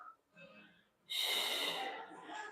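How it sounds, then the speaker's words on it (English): Close, audible breaths drawn in and pushed out during a seated leg stretch with a spinal twist, a soft inhale followed by a louder, rushing exhale. "Inhale, exhale."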